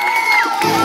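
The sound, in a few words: audience applause and cheering at an apartment festival stage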